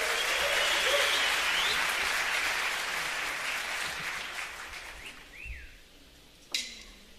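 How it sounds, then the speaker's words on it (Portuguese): A concert audience at a symphonic jazz reggae show applauds in a dense wash of clapping that slowly thins and fades, with a brief whistle and a sharp knock near the end. "Palmas para ela, por favor."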